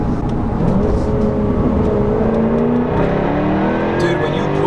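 A Jaguar F-Type R AWD accelerates hard, its loud exhaust giving a rising, sustained roar that climbs in pitch from close by, without any speech.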